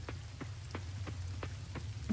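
Rain falls steadily in the Coral Island farming game on a spring day, a soft continuous patter with regular, distinct droplet taps roughly every third of a second.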